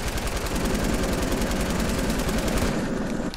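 Rapid automatic gunfire in Fortnite rattles continuously at close range, a dense burst of fast repeated shots that cuts off near the end, with no talking over it.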